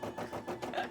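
Two sewing machines stitching at the same time on cosplay detailing, a steady close whirring hum with rhythmic pulses in the motor drone and no talking over it.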